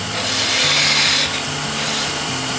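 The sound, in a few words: wood lathe parting tool cutting a tenon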